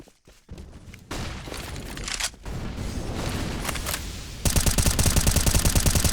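Grenade blasts and heavy gunfire in a Counter-Strike match on the Ancient map, a dense continuous barrage of bursts building louder toward the end, with no voices over it.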